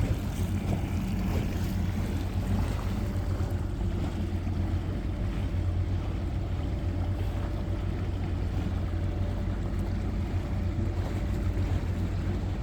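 A fishing boat cruising on Lake Lanier in summer, its steady engine drone and hull wash running continuously at close range without a break, with no voices heard.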